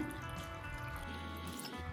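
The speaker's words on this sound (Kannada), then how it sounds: "ಈಗ 2 ಗ್ಲಾಸ್ ನೀರು ಹಾಕ್ಕೊಳ್ತಿದ್ದೀನಿ" Two glasses of water run steadily into a pot of spinach and bottle gourd sambar for pressure cooking, a continuous close splashing pour for a couple of seconds with no voices.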